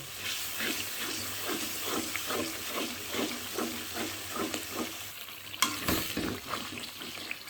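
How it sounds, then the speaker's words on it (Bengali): Spice paste for a spicy duck curry being sautéed in a pan, with a low steady sizzle and rhythmic scraping stir strokes close by, plus a sharper knock near the end. "এত সুন্দর করে মশলা কষাচ্ছি"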